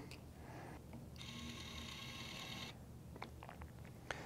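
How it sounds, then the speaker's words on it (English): Atlas Copco MicroTorque electric screwdriver running a screw into the larger-diameter hole of a test block: a steady high-pitched motor whir of about a second and a half, then light mechanical ticks and clicks, faint overall. "Let's see what happens when we tighten the screw into the bigger hole diameter."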